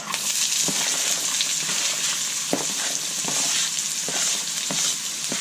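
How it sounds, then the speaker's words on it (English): Onions sautéing over medium-high heat in the same pan used to cook beef for picadillo, a steady dense sizzle with intermittent clicks of stirring, close and continuous with no talking. "in the same pan that you cooked your beef in, we're going to add the onions"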